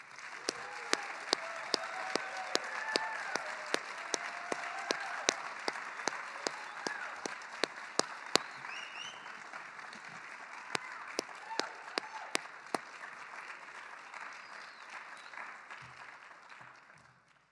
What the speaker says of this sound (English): Please join me in applauding all of our new NHS members.